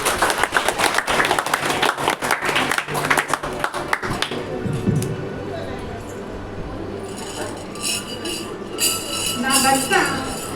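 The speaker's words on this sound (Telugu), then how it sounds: "చప్పట్లు కొట్టండి." Audience clapping at a women's fellowship church skit, a burst of claps for about four seconds, followed by voices talking.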